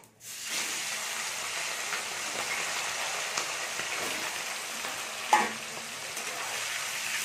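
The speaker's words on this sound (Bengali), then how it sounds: "চিকেনটাকে তেলেতে একটু নেড়ে নেবো" Chicken frying in oil after curry leaves, sizzling steadily, a continuous loud hiss with occasional stirring scrapes and one sharper clatter.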